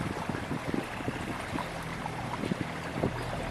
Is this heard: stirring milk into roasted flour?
no